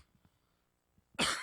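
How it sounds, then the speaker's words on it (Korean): One sudden, loud cough bursts out after a near-silent pause, preceded by a few faint throat sounds, from a lecturer in a classroom. "수업을 시작하려고 그러니까 또 기침이"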